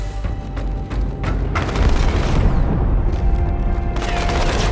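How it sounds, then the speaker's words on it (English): Explosion inside the ship Athens in the video game Halo 2 Anniversary: a loud, deep booming blast with a rolling rumble that swells and sustains, preceded by sharp crackling bursts like gunfire. "That explosion came from inside the Athens."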